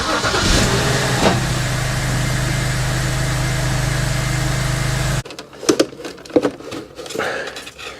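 A BMW engine with about 80,000 miles cranks and catches, then idles steadily and loudly before the sound abruptly changes to quieter clicks and thumps.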